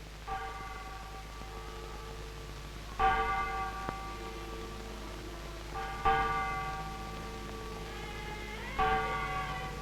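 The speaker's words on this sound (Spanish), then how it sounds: "suenan las últimas campanadas para entrar en la iglesia" Church bells toll in slow, evenly spaced strikes about every three seconds, each ringing out with a long, shimmering decay.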